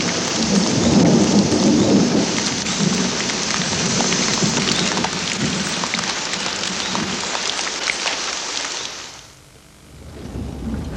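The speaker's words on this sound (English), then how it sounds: "And soon after that, it started to rain." Steady heavy rain pours down with rumbling thunder throughout, then the downpour briefly drops away near the end before resuming.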